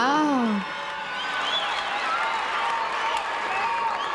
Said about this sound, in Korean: 관중들의 환호가 장내를 떠들썩하게 만들고